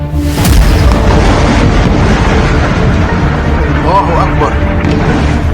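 Israeli bombing in Lebanon brings a loud, sharp blast followed by a continuous heavy rumble and debris noise. The explosions sound fairly close, with a voice talking over them throughout.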